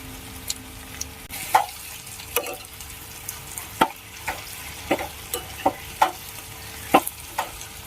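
Tomato curry seasoned with salt and turmeric being stirred in a pan, a steady low sizzle under irregular sharp scraping clicks of a spoon against the vessel, close and moderately loud with no talking.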